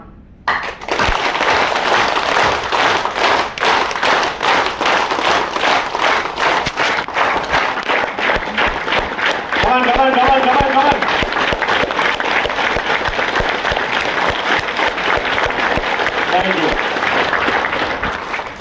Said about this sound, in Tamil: நான் தட்டினதுக்கு அப்புறம் அப்படியே தட்டுங்க, நல்லா வேகமா.